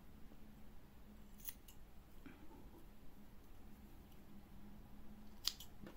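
Scissors snip through crochet yarn during work on a crochet hook organizer, with a couple of soft, quick cuts, the sharpest one near the end, against a quiet room background.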